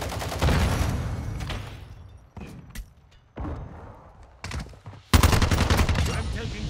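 Bursts of automatic gunfire from a Call of Duty: Modern Warfare 2 (2022) firefight, loud and close, broken by short pauses and thuds, ending in a heavy sustained volley.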